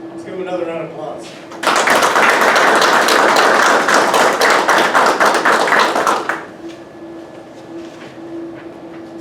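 Applause at an Air Force graduation ceremony, a loud, dense burst of clapping from a large crowd lasting several seconds, with a voice speaking before and after it.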